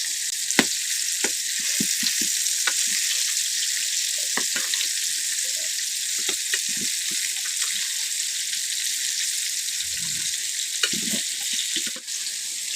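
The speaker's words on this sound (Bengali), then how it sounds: "এখন পটলগুলোরে খুব সুন্দর করে ভাজতে নিব।" Pointed gourd slices frying in a pan, giving a steady hissing sizzle with occasional clicks and turning sounds, near and continuous with no one speaking.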